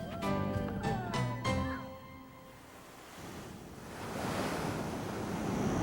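Ocean surf rolls onto an Australian beach, a steady broad wash of breaking waves with wind buffeting the microphone, swelling again toward the end after an opening stretch where tonal sounds sit over the surf.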